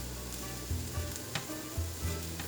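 Tomatillos sizzling in a hot pan as they are turned, a soft constant fry with several low knocks and clacks from the flipping.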